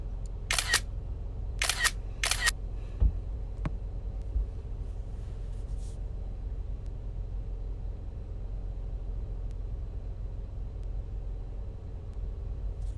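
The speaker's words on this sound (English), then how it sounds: "Use this sound to make my family think I'm taking pics." Three crisp camera shutter clicks in quick succession near the start, followed by a quiet low hum of room noise.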